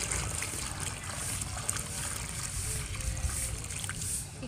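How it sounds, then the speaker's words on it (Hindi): Water added into a small hole dug in dirt, a steady soft trickling and splashing wash that runs throughout at moderate level with no talk. "ये देखिए मैंने इसके अंदर पानी ऐड कर लिया"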